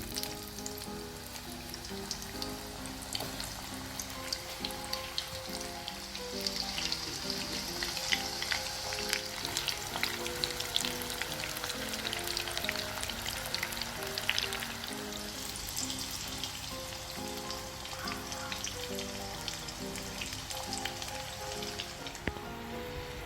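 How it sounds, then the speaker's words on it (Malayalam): Pieces of raw mango fry in sesame oil for pickle, a steady close crackle and sizzle that builds midway and continues throughout, with a low hum in the background and no talking. "ഇനി 3-4 പോർഷനായിട്ട് ഫ്രൈ ചെയ്തെടുക്കണം."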